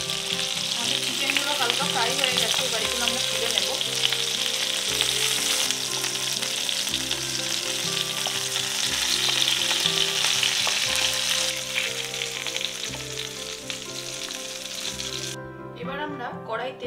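Chicken legs fry in hot oil in a kadai with a loud, continuous sizzle and crackle that holds steady for about seventeen seconds, then cuts off abruptly near the end.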